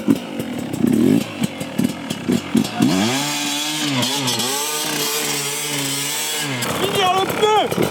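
A Sherco 300 2T two-stroke motorcycle engine revs loudly nearby, its rising and falling whine holding through sustained throttle after a choppy start, then climbing again at the end.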